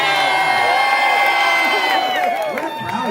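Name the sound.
crowd cheering at town hall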